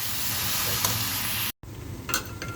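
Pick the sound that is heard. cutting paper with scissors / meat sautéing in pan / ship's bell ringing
meat sautéing in pan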